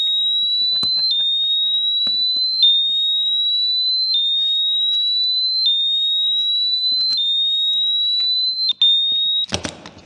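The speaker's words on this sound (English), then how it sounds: "at first it just kind of beeps warnings to you. When it gets bumped, it gets moved, then it's beeping saying, hey, I'm an alarm, back away" An R&M Delite eBike's lock alarm beeps out warnings after being bumped, a loud, steady series of repeated electronic tones at a regular pace, ending with a brief clatter.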